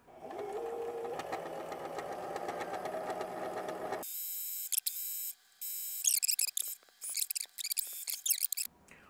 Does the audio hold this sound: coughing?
no